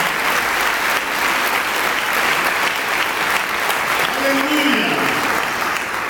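A church congregation claps steadily throughout, a broad, loud wash of applause with voices mixed in and a short tonal sweep rising and falling near the end.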